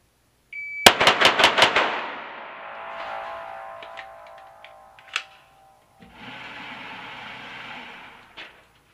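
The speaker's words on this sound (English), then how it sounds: "So I'll shoot a 5-round group quickly, starting in the same manner, but just stringing those shots together" Five rapid rifle shots fired in a quick string, each a sharp loud crack with ringing decay, followed by clinks and a faint mechanical hum; no talking.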